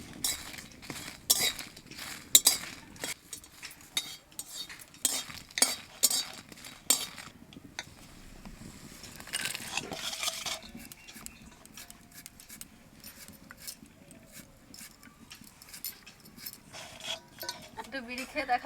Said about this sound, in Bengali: শুকনো খোলায় কটা শুকনো লঙ্কা ভাজিয়ে নেব।